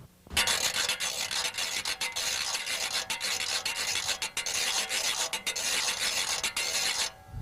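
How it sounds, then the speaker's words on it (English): Rub board, or washboard, scraped for zydeco music in steady, busy rasping strokes that sound close and fairly loud, with brief gaps between scrapes and no voice. "Okay, the rub board, y'all,"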